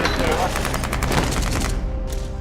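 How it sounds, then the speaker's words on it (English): An AR-15 rifle firing full auto on a TV drama film set: a dense, loud rapid burst of gunfire with fast repeating cracks, then a dropping tail as the burst ends, close and harsh. "Our hero Rick is firing an AR-15, full auto."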